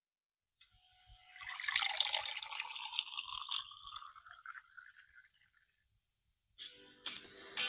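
Water pours and splashes steadily for about five seconds, moderately loud and close, then stops; after a short silence a brief second burst of splashing water follows. No one speaks.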